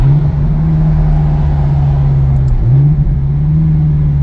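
A 2003 Ferrari 360 Modena engine hums steadily from inside the cabin, its pitch dipping briefly as a gear shifts harshly in sport mode, then settling back to a smooth drone.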